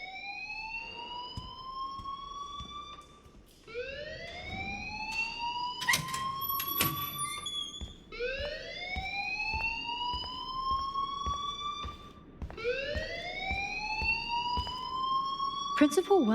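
A school fire alarm in the Life Is Strange video game wails in repeated rising sweeps, each rising then holding steady. The sweeps come about every four seconds and stay loud, with brief beeps and game sounds between them.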